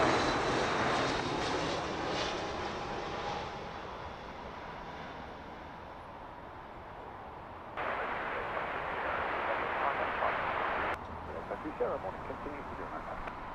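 A Boeing 777 lands on runway 9 left at Heathrow Airport, a broad, steady jet roar that eases slightly and then swells again in the distance, with a radio voice talking over it.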